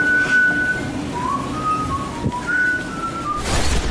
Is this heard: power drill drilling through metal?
no